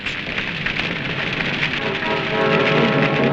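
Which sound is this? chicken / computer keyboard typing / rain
rain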